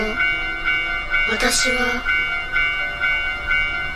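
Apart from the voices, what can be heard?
railroad crossing bell and passing train in a horror video game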